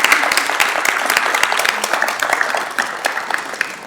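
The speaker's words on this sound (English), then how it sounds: "a big round of applause for all the volunteers" Warm applause fills a conference hall for event volunteers at an environmental forum, a loud, close crowd of clapping with crisp individual hand strikes, sustained throughout.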